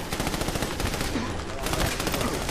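Rapid gunfire from the video game Army of Two: Devil's Cartel rattles continuously in dense bursts, loud and close, with a brief lull in the middle before the shooting picks up again.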